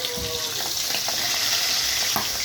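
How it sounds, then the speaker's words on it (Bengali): Pieces of fresh boal fish fry in hot oil in a pan, giving a steady broadband sizzle with a few faint clicks and spatters close by, no talking. "মাছটা আমি ভেজে নিচ্ছি।"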